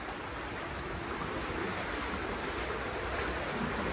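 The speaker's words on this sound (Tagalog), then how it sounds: "Lakas na, lumalakas na. Grabe yung agos dito." Strong, swift water current rushes in a typhoon, a steady, loud, broadband roar with wind buffeting the microphone and no talking.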